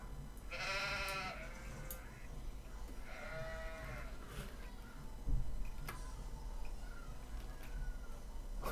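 Two or three sheep bleating at a moderate distance over a low, steady outdoor rumble, with a single faint knock partway through.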